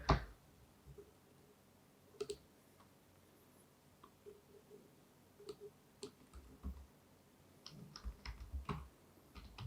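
Someone types a password on a computer keyboard for a Primavera P6 login, with faint, sparse key clicks in short irregular bursts against a quiet room.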